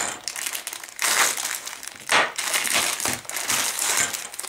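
A Hobby Craft 1/48 Hawker Sea Fury F.B Mk.II plastic model kit box is opened. Close crinkling and crackling of packaging comes in several uneven bursts, with soft rustles between them.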